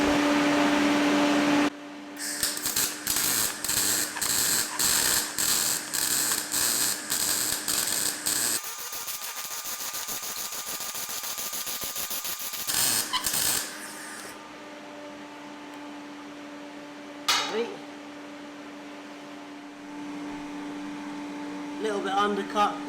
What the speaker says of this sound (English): let's get this welded up